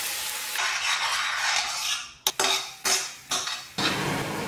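Cumin seeds and freshly ground masala saute in a teaspoon of oil, giving a steady bright sizzle, then a run of sharp spoon scrapes and clinks against the pan in the second half.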